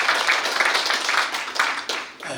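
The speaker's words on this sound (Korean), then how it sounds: "큰 박수 부탁드리겠습니다." Sustained applause from a crowd at a newspaper's 25th anniversary ceremony, dense and steady with small swells, fading slightly near the end.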